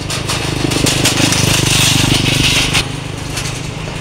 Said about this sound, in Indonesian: Kita gantian sama motor yang lagi mau lewat.